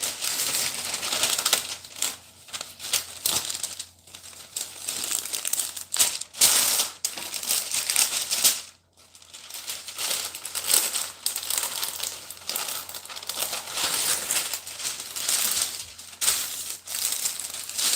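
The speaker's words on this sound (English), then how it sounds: "she's cutting paper at the beginning" Paper is cut up close during freezer prep of ground beef burger patties and meatballs: a continuous, busy crinkling and rustling with sharp snips, with no talking.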